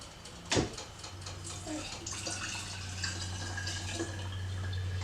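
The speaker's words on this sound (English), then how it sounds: "And I'm going to use my strainer because I have solids in here." Homemade chicken broth pours through a strainer into a container, a steady close liquid stream after a brief clunk, growing slightly fuller as it flows.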